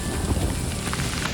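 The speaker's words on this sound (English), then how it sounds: "It's raining like proper." Heavy rain pouring down on a farm, a dense, loud, continuous hiss of drops hitting surfaces close by, with no talking.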